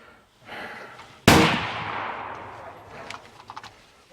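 A Uintah Precision UPR-15 chambered in .223 fires one sharp, loud rifle shot that rings out and trails off into an echoing decay outdoors. A few faint clicks and rustles follow.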